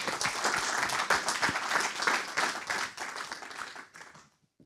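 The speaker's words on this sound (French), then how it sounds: "je crois qu'on peut les applaudir triplement" A crowd at an open source labels award ceremony in France breaks into lively applause, dense and steady clapping that holds strongly, then thins out and stops abruptly near the end.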